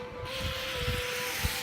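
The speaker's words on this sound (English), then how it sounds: "with the wet sanding you can do your edges" Hand wet sanding of car bodywork, a steady close scraping rub with rhythmic strokes over a constant background hum, no voices.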